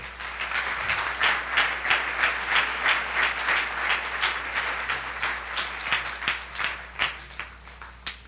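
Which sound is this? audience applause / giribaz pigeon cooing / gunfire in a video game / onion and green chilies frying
audience applause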